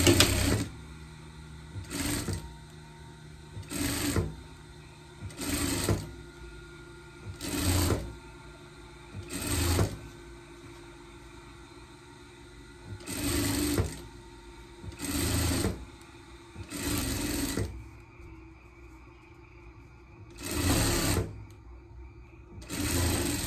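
A sewing machine stitches the hem of a skirt in repeated bursts of about a second each, a close rapid mechanical whir broken by short quiet pauses, about a dozen runs in all.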